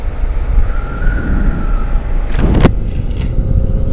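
A Harley-Davidson Sportster motorcycle with a modified air cleaner rides away from a park, its engine a loud steady rumble throughout with a brief sharp rising whine near the end.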